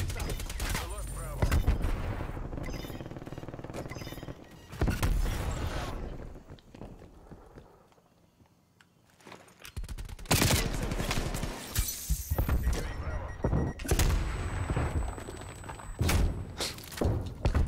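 Gunfire in Call of Duty Black Ops Cold War comes in sharp, rapid bursts and single shots spread across the stretch, with a quieter lull in the middle and a player's voice talking over parts of it.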